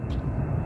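A low-flying airplane passes overhead, heard as a brief, steady, low engine rumble with no talking.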